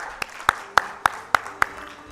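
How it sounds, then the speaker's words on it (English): Audience applause at a business summit in India: six sharp, evenly spaced claps ring out over a soft, scattered crowd patter, fairly close and moderately loud, with no talking. "Let's give a big round of applause, please."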